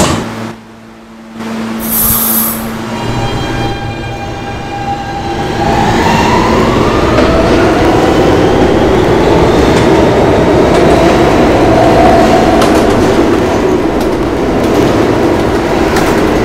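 An R160B subway train in the Roblox game PTA Subway rumbles loudly and steadily, with a rising electric whine as it picks up speed, a brief hiss early on.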